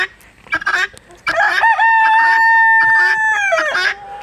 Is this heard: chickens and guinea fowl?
yes